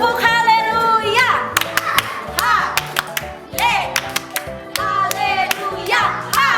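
Children at an Indonesian church kids' gathering performing the tepuk haleluya clap chant, with sung or chanted voices punctuated by sharp, rhythmic bursts of hand claps close to the microphone.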